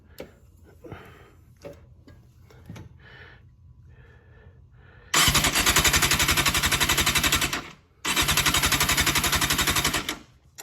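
A Kawasaki Thundercat motorcycle engine being spun over during an EFI conversion: after light clicks and handling noises, two loud, rapid, steady mechanical churning bursts, the second following a brief pause, close and alone.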